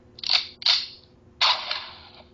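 An explosion sound effect plays twice as short, sharp blasts close together, then after a brief gap a third longer burst rings out and fades.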